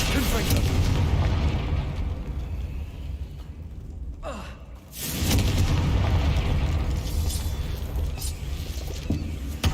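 Confringo fire curse explosion in Hogwarts Legacy: a booming burst with a rumbling tail after a brief quiet gap, loud and close over background game sound.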